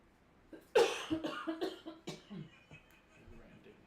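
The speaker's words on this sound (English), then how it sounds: "Random coughing from inside the forest." A short burst of coughing from inside a forest, several rough coughs in quick succession that trail off into quieter throat noises.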